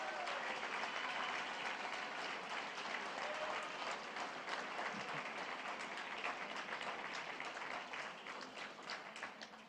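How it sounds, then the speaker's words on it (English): Sustained audience applause fills a banquet hall at a charity awards celebration for a guest's mother, a dense wash of many hands clapping that thins slightly toward the end, with faint crowd murmur beneath. "Let's give her a big applause."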